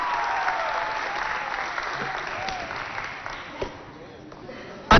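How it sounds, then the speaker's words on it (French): Audience applause on a TV game show, sustained clapping with a voice heard over it, thinning toward the end before a sharp loud burst. "Applaudissez pour accompagner nos deux candidats."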